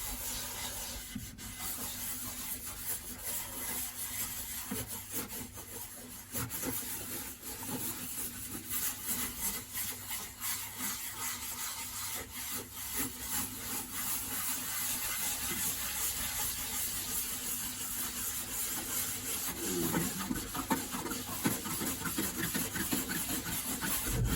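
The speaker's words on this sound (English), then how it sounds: "I'm just going to put the first few coats of shellac on." Shellac is French-polished onto an acoustic guitar body with a pad, producing a quiet, continuous, close rubbing swish that continues evenly for over twenty seconds.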